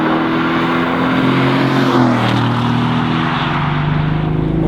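Mercedes-AMG GT S engine and exhaust drone loudly and continuously close up, a deep steady rumble with a slight rise and fall in pitch as the car is driven.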